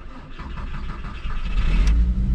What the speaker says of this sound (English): Give you guys a nice little V5 cold start on a stock exhaust at least.